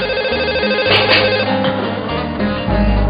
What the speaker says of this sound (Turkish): bir telefon çaldı